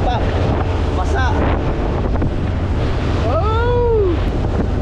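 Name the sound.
strong wind blowing on a boat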